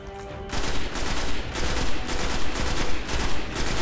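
Gunfire in the video game Destiny on PlayStation 4 rattles out in loud, rapid automatic bursts that repeat about every half second, with no talking.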